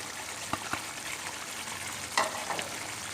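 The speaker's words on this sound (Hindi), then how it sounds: "अब भी इसको भी भून लेते हैं।" Chicken white karahi with simple home spices and white pepper frying in a pan, a steady close sizzle with a few scraping stirs and clinks, and no talking.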